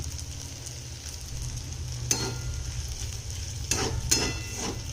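A kurdai vegetable dish with fresh coriander being stirred in a pan over a low steady sizzle, with a few distinct scraping strokes of the spoon, close and moderately quiet, no talking.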